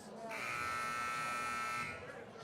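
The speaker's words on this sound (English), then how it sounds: "you can hear the buzzer pretty well." A loud, harsh basketball arena buzzer blares for about a second and a half, close by, with crowd noise and chatter around it at a boys' high school game.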